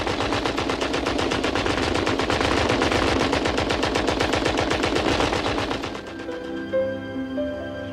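A World War I era machine gun fires a long, loud, rapid continuous burst that fills most of the clip, then stops abruptly and gives way to quieter background sound with faint music.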